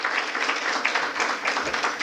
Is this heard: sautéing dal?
no